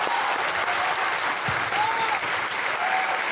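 An audience at an RCM company event in Bhilwara, Rajasthan, claps in loud, steady, continuous applause filling the whole stretch.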